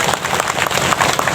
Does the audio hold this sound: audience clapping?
yes